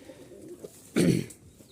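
A single soft pigeon coo, from flying pigeons for sale, rises briefly out of a quiet background.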